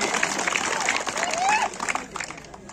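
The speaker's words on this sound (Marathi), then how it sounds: "टाळ्या करा की गौरव शर्मासाठी" A crowd at a village wrestling bout claps for wrestler Gaurav Sharma. Scattered clapping runs throughout under an announcer's voice and background crowd noise, fading slightly toward the end.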